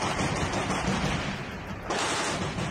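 A soldier inside the Azovstal steel plant fires rapidly in battle, dense continuous crackling shots that dip briefly and then swell again toward the end, with no speech.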